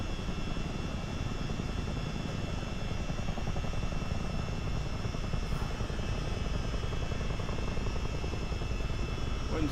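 A CH-47D Chinook helicopter in a multiplayer flight simulator game hovers low over a runway at about 50 knots, its steady, dense rotor and engine drone holding constant and loud throughout with no breaks.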